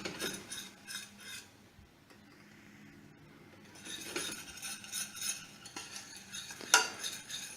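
A spoon or utensil stirring macaroni and cheese sauce in a pan, giving soft scraping and light clinking in an uneven, continuous rhythm, close and moderately quiet.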